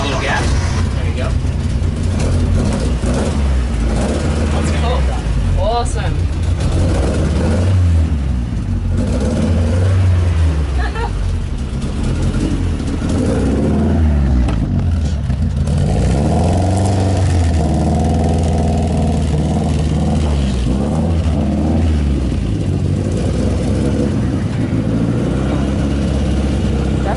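An original car from the Fast & Furious movies starts up and revs while being pushed and given gas, engine rumbling and swelling loud and close, with people talking throughout.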